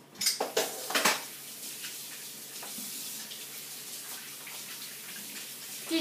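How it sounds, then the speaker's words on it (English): Hands washed at a stainless steel kitchen sink: a few sharp metallic clanks and knocks at the start, then quiet running tap water splashing steadily in a home kitchen. "So I'm going to wash my hands real quick."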